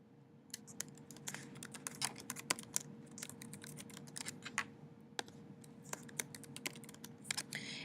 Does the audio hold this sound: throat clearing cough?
no